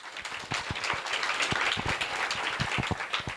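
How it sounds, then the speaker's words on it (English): A youth panel audience at LCOY Botswana 2024 breaks into a steady round of applause, with dense, fairly close clapping and sharp individual claps standing out across the whole stretch. "A round of applause to that."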